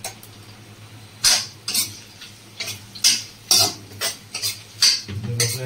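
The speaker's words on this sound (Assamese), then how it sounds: "জলকীয়াকেইটা দি পেলাই আৰু অলপ টাইম ভাজিম" Chillies fry with onions in a pan as a spoon stirs them, scraping and clattering against the metal in about eight sharp bursts over a quiet, steady sizzle.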